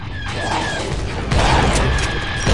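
Defensive turrets firing aboard a derelict assault ship in Star Wars: Republic Commando, a loud, dense burst of rapid blaster shots that swells midway and carries on steadily with no talk.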